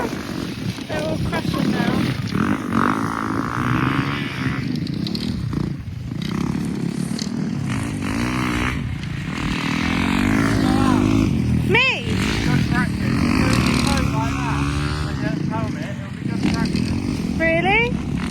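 Flat track motorcycles race around a small oval in a freezing snow storm, their engines droning and revving steadily throughout while someone talks loudly over the noise.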